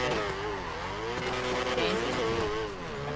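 A car engine in a video game drones steadily and loudly throughout, with a wavering rumbling tone that rises and falls slightly as if cruising and revving, with no talking over it.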